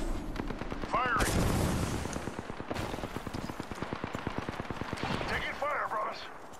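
Rapid automatic gunfire in an Apex Legends match, dense bursts of close shots crackling almost continuously with brief pauses, mixed with game sound effects and a voice speaking over it.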